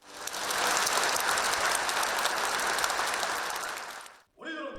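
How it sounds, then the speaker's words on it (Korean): Participants at an anniversary commemoration give enthusiastic applause, a loud, dense roar of clapping that swells quickly, holds, then cuts off abruptly before a brief voice follows. "참가자들은 열렬한 박수갈채를 보냈습니다"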